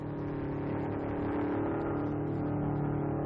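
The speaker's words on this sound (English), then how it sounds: "The car is running faster now" A racing car engine at a 1956 MG speed trial roars at high, steady revs, loud and sustained throughout with no pauses.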